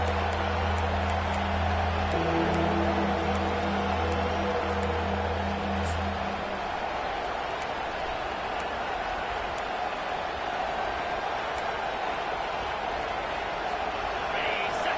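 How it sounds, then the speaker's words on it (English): Football stadium crowd roaring for the Nebraska defense on a third down, a dense, sustained wall of cheering that rises and holds loud throughout, with a low steady tone fading out early. "Decibels rising as the crowd gets behind this defense on third down."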